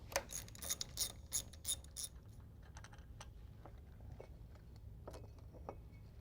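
Metallic clicks, ratcheting and tapping from tools as the stock tail shaft comes off a 1967 Chevy C10 truck transmission, a quick burst of sharp clicks at first, then sparser scattered knocks over low background hum.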